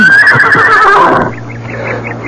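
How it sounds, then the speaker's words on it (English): Horses neigh loudly in a 1974 radio mystery drama, a drawn-out whinny ringing for about a second before cutting to a quieter, steady background hum with faint repeated tones. "Stop the horses."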